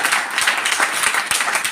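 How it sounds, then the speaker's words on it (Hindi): Audience applause at a direct-selling company's fourth-anniversary celebration in Indore, a steady wash of many hands clapping that holds at an even level for a couple of seconds. "जोरदार तालियां होना चाहिए हमारी कंपनी के लिए"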